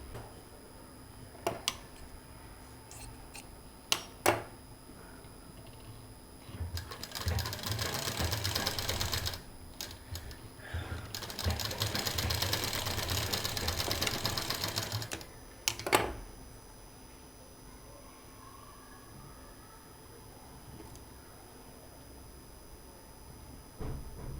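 Sewing machine stitching fabric pieces for a traditional bandanvar, two bursts of fast whirring needle chatter separated by a short pause, with scattered clicks and handling sounds before and after, close by.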